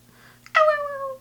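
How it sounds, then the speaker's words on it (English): A cat lets out one loud, drawn-out meow up close after a short, softer sound, with no talking. "My cat's screaming."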